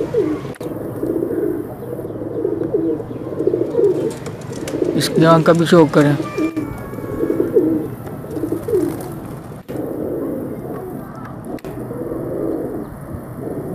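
Breeding pigeons coo in soft, repeated low calls at a bird seller's stall, with someone talking over them most of the way and a brief flutter of chirps midway.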